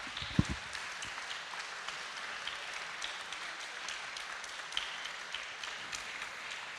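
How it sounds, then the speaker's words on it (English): Audience at the ECSC 2021 closing ceremony applauds with a steady wash of clapping, heard from a distance with a few sharper claps standing out. "So thank you very much for your applause."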